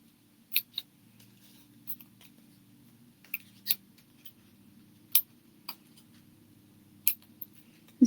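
Scissors snip through fabric scraps during trimming, giving about a dozen short, crisp cuts at uneven intervals over a quiet background with a faint low hum.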